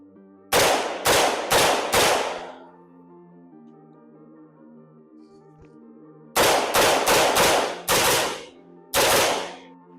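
Loud outdoor rifle shots from a rifle fitted with a Witt Machine muzzle rise eliminator, fired in two quick strings of four and then three sharp cracks that each ring out briefly, with a quiet gap in between.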